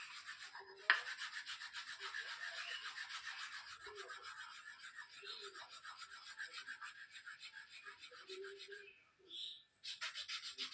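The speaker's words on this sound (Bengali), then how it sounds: "চন্দন ঘষে নিচ্ছি, নিয়ে বাবাকে দেবো।" Sandalwood is rubbed against a stone to make paste, a soft continuous rasping scrape with steady rhythm, close but quiet, with a few faint background sounds and a brief pause near the end.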